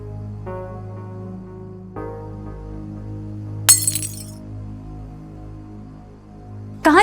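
Glass breaks and shatters on a kitchen floor in a drama scene, with two sharp bright crashes cutting through a low sustained musical drone, the first followed by a short tinkling scatter.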